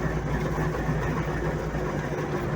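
An MTZ-80 tractor's diesel engine runs at a steady low rumble, loud and continuous with no pauses and no talk.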